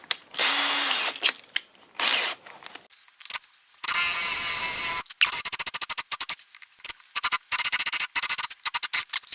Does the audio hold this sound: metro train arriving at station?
no